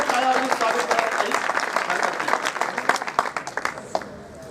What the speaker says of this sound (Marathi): या सर्वांचं मी जोरदार एकदा टाळ्या वाजवून स्वागत करत आहे